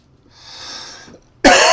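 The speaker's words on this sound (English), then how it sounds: "sorry about the cough, I've still got kind of a lingering cough from a few weeks ago" A person with a lingering cough from a few weeks earlier coughs during a live digital illustration session. A soft, breathy throat sound comes first, then one sudden, loud, close cough bursts out.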